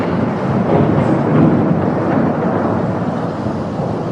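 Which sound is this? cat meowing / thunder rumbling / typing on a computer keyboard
thunder rumbling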